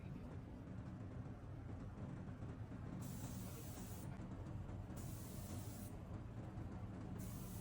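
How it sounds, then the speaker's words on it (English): A continuous airy hiss of a spray gun applying enamel coating to a cast iron pot runs throughout, brightening in bursts as the spray pulses on and off, over a low hum. "When spraying the bottom of the pot, you need to adjust the angle of the spray gun."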